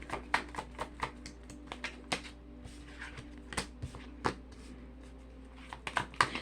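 A deck of playing cards is shuffled and riffled by hand, giving quiet, close clusters of crisp flutters and taps in an irregular rhythm against a low background hum.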